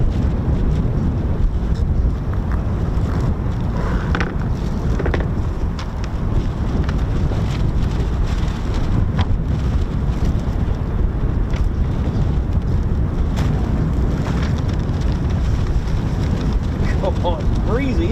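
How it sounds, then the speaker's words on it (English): Strong wind buffets the microphone outdoors at the RAF Lakenheath airfield, a loud continuous rumbling roar with gusty fluctuations throughout. "Oh, it's breezy, isn't it?"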